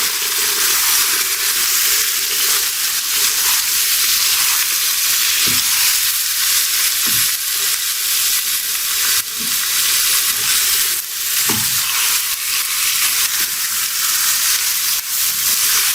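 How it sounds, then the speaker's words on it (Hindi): Chicken frying in a karahi for achari chicken gives a loud, steady sizzle with a broad hiss, occasional soft knocks of stirring, and no talking. "साथ में चाहिए चिकन डाल दें। चिकन को फ्राई कर लेंगे।"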